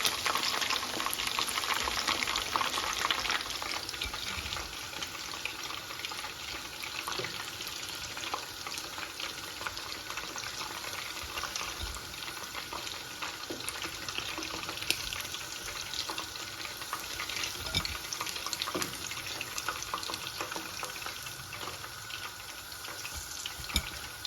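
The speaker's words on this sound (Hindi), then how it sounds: "बाकी की भी इसी तरह फ्राई कर लेंगे।" Spicy southern-style chicken pieces fry in hot oil, giving a steady, dense sizzle with a watery, bubbling texture that holds at an even level throughout, with no talking.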